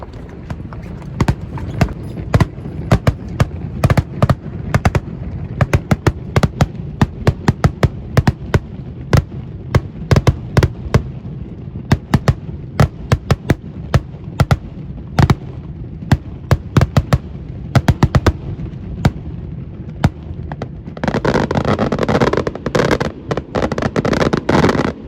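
Fireworks launched from mortar tubes in Malta thump and burst in a dense outdoor barrage of sharp, fairly loud bangs, with a thick crackling shower near the end.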